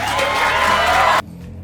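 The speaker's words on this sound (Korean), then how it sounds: "박수를 한 번 더 칠까요?" An audience bursts into loud, dense applause with some cheering, clapping steadily for over a second before cutting off abruptly into near silence.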